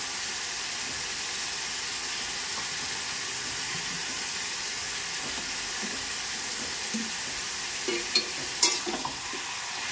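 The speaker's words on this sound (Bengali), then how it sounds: "লবণ দিয়ে ভালো করে নেড়ে চেড়ে ঢাকা দেবো" Rogan josh meat stirred with salt in a pot, a steady soft sizzle and frying hiss with faint scraping stirs near the end, close and quiet, no talking.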